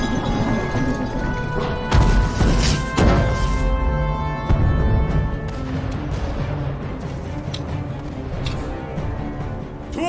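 Cannon fire in a dubbed Indian historical battle film about the Rani of Jhansi: heavy booms and crashes burst out around two and three seconds in, over a dense, continuous din of battle and score.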